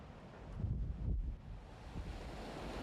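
Waves break against an unforgiving, treacherous coastline, a steady rushing wash of surf with wind buffeting, one fuller surge swelling near the middle, continuous and fairly distant.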